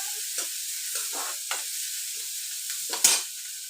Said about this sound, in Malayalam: ഇവിടെ ഉള്ളി പൊരിക്കാനിട്ടിരിക്കുന്നത് നല്ലവണ്ണം മൊരിയുന്നത് വരെ ഇളക്കിക്കൊണ്ടിരിക്കുക